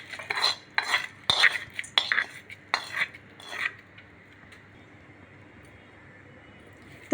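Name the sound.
mixing tempering into tamarind vermicelli with a spoon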